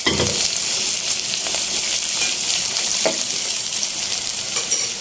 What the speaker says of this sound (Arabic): كده البصلة اتحمرت، هنحط عليها جزرية كده مبشورة ونديها برضو كده تقلبتين